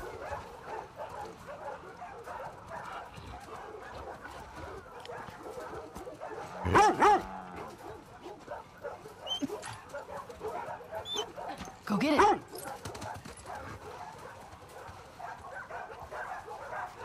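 A dog in The Last of Us Part 2 lets out two loud, close barks several seconds apart, with soft whimpers and yips between them over quiet game ambience and occasional talk.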